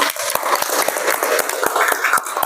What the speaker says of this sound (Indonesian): tepuk tangan untuk kelompok masing-masing